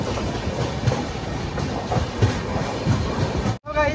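The Kamakhya–Puri Express rolls along its rails, heard from on board as a loud, steady rumble with rhythmic clickety-clack of the wheels and a brief sudden drop near the end.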